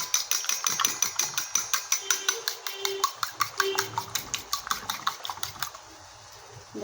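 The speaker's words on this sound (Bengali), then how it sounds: "এবারে এটাকে ভালো করে ফেটিয়ে নেব বন্ধুরা।" A fork whisks eggs seasoned with coriander, salt and pepper against a bowl in rapid, regular clicking taps, close and fairly loud, then stops near the end.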